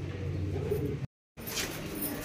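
Madrasi pigeons, a pair including a hen kept as flying pigeons, coo in low, steady, close-up murmurs for about a second, break off into brief silence, then give way to softer, brighter bird sounds.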